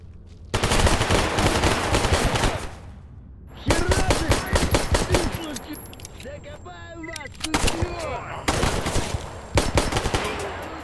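Rapid machine gun bursts from an enemy bandit echo through an underground area in Stalker GAMMA, loud and sustained with short pauses between volleys, plus a few single shots and brief clattering.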